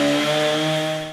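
A neighbor's chainsaw runs outdoors in a steady, unbroken drone at moderate distance, holding a constant pitch throughout with no voices.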